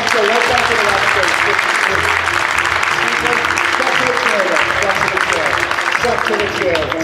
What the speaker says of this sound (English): give a volunteer a big round of applause